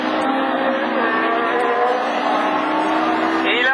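A Honda Division 4 rallycross car at Lessay running rough on three cylinders with an engine fault, a loud continuous engine drone lasting throughout, with the commentator talking over it.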